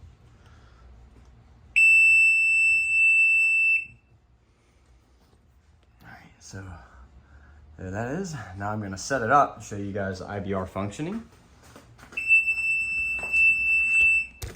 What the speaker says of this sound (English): excuse the beeping, that is just the battery getting angry because it's low